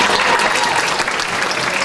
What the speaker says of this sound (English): Give a big round of applause for Shane